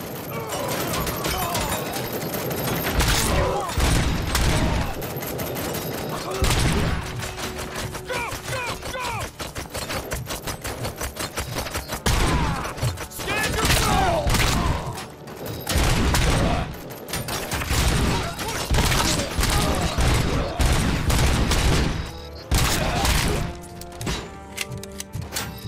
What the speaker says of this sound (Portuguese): Nossa, eu quase atirei no policial, sorte que eu errei todos os tiros.